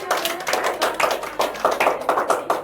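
Students in a classroom clap together during a micro-teaching lesson on economic growth, a close, loud burst of steady rhythmic hand claps lasting a few seconds with no talk over it.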